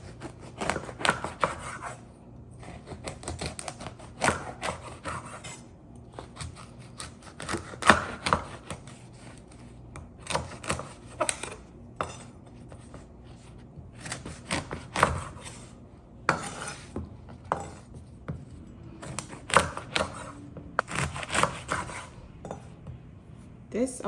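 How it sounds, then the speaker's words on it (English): A knife chops koobi, salted fish, on a board in a home kitchen: repeated irregular knocks and clinks close by, with pauses between bursts and light utensil clatter. "I'm going to cut up my Koobi."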